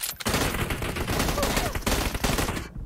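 Gunfire in the video game PUBG: a dense, loud volley of rapid shots runs almost continuously for nearly three seconds before cutting off abruptly.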